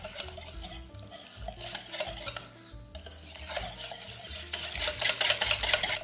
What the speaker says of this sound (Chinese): 然后继续搅拌成面糊。